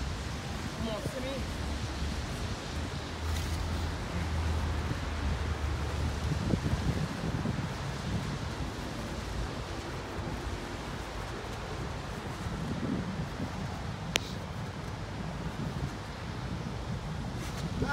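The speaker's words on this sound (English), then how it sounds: "The wind." Wind blows outdoors in a steady, rumbling gust against the microphone, loud and continuous, while people talk under it.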